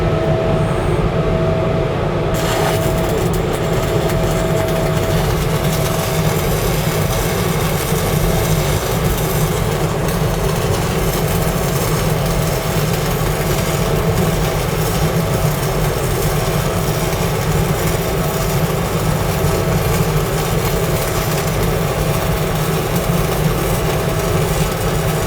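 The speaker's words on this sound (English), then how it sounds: "I'm gonna put this weld in." Steady, continuous crackling buzz of arc welding laying down a weld bead, loud and unbroken for the whole stretch with a constant electrical hum beneath and no talking.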